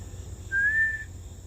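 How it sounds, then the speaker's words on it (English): A blue jay gives a single odd, clear whistle lasting about half a second, rising slightly and then holding steady, moderately close against a faint outdoor background. "oh, that's the blue jay calling."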